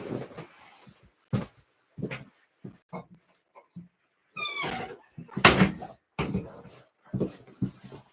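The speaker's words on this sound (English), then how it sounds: "I'm just gonna close the door for a second." An indoor door being closed, heard as a single firm thud among scattered knocks and soft movement noises, with a brief cat-like meow just before it.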